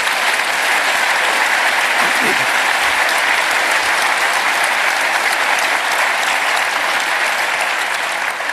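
A large audience breaks into sustained applause, a dense, loud wash of clapping that holds steady throughout with no break.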